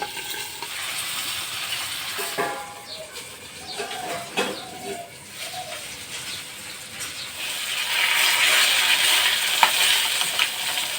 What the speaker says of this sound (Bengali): মাছের মাথাটাকে ঢেকে দেব, ঢেকে তারপর ভেজে নেব, হয়তো ভাজছে